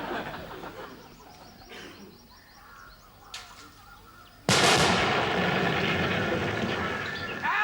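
A mortar explosion goes off with a sudden loud bang on an army exercise, and a long rumbling roar and debris noise follow it. Before the blast there are only quiet outdoor sounds and a few faint knocks.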